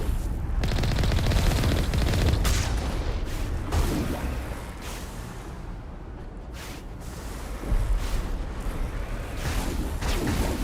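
A rocket explodes amid a firefight in Mass Effect: dense, loud, sustained gunfire is punctuated by several heavy blasts, with a renewed burst near the end.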